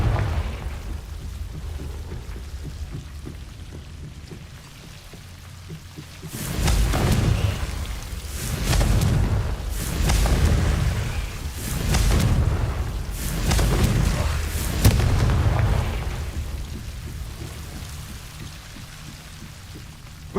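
Confringo fire spells blasting in Hogwarts Legacy, a series of rolling booms in close succession over a steady rain-like ambient hiss.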